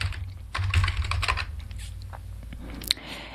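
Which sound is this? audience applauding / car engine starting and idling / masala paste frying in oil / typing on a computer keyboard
typing on a computer keyboard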